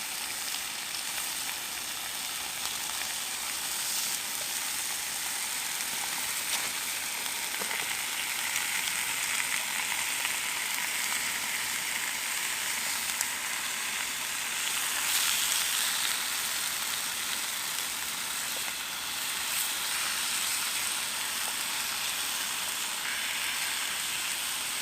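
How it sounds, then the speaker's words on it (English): Bacon fries in a pan over a campfire at a Halloween wild camp, giving a steady, bright crackling sizzle that carries on without a break for the whole stretch, close up with no talking. "Time to add the bacon."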